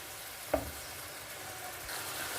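A quiet, steady sizzle of tomatoes and ginger-garlic paste sautéing in a pan, with a single soft knock of a spoon stirring early on.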